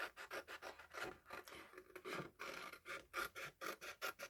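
Scissors cut freehand through a paper drawing for a handmade card, giving a quick run of close, rasping snips in a steady rhythm with brief pauses and no talk.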